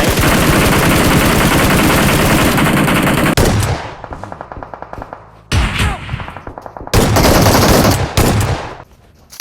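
Bursts of M4 rifle fire in a video game, loud rapid automatic volleys broken by short pauses, with sustained strings of shots stopping and restarting.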